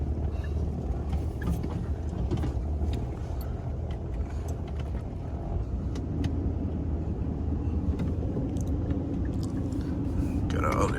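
A pickup truck drives around a farm field, its steady engine and road rumble continuous and close throughout, with faint clicks and rattles from the cab.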